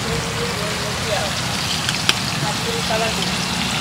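Quail frying in hot oil at a busy Patna street-food stall, a steady broadband sizzle running the whole time under nearby chatter, with one sharp pop partway through.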